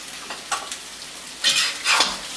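Pad thai noodles and vegetables stir-fry in a hot pan, a steady sizzle broken by several scraping, tossing strokes of the spatula, close and bright.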